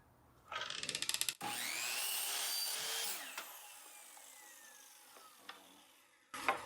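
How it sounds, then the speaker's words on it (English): Miter saw set to a 35-degree miter and 32-degree tilt spins up with a brief rattle, then slices through wood for a pyramid cut in a loud sustained whine that fades as the blade winds down, followed by a short clatter. "we set the miter to 35, the tilt to 32, and we're going to make our first cut"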